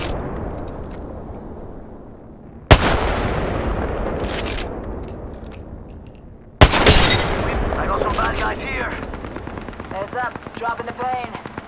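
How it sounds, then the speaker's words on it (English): Grenade explosion and gunfire in the video game Apex Legends: two sudden loud blasts with lingering rumble, with gunfire and a voice layered through the mix. "Frag out!"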